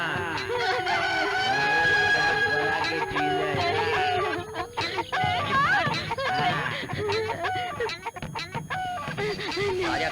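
A rooster crows and clucks amid other fowl, including honking geese, in a busy, continuous barnyard din with little pause.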